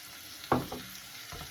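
Mushrooms dropped into a hot pan with oil, a sharp sizzle bursting up on contact and then settling into a low steady fry with a second small flare near the end.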